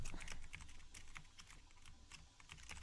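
Fast, hard typing on a computer keyboard, rapid clattering keystrokes with occasional heavier bangs, close up and continuous throughout.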